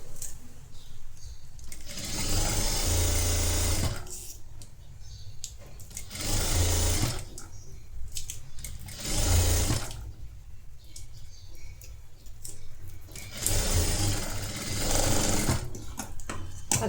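Sewing machine stitching the neckline of a cross-neck designer blouse fabric, running in four bursts of about two seconds each, with quiet pauses between them and no talk.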